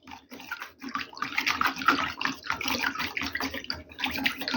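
Water sloshes and swirls as powder is stirred briskly into a container of water, with uneven splashing bursts throughout.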